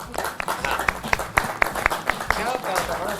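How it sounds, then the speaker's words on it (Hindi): Scattered, rhythmic clapping from a small group with distinct individual claps, under background voices. "जोरदार तालियां हो जाए"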